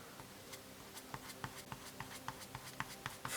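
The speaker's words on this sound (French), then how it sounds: "frotter un peu son papier" Light, dry scratchy strokes repeat in a quick, uneven rhythm, like bristles scrubbing across paper, close and quiet with no talking.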